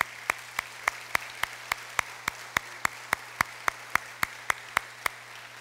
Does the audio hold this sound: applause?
yes